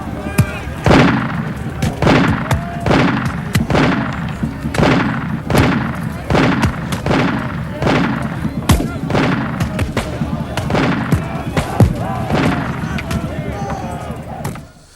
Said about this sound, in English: When you pulled the firing cord, the flintlock operated and fired the gun.